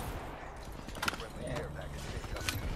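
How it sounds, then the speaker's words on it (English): Hostile horses in a video game, hooves clip-clopping in a steady rhythm at moderate distance, with sharp bangs like gunfire and someone talking over the action. "Watch out for the hostile horses, dude."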